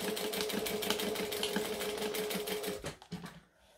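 A sewing machine stitches a laptop case, its needle running in a fast, even mechanical rattle for nearly three seconds, then slowing into a few separate clicks before stopping; close and moderately loud, with no talk.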